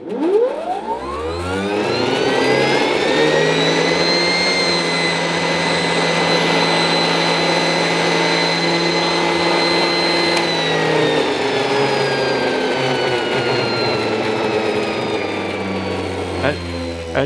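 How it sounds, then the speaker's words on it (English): Valve-era Luftwaffe radio generator spinning up to speed, its whine climbing steeply at first, then settling into a loud, steady, high-pitched hum and drone that holds for many seconds without talk. "Let's hear the generator."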